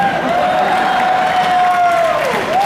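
An audience at a concert in Millennium Park claps and cheers in a dense, continuous wash of applause, with a sustained electronic tone gliding over the crowd noise.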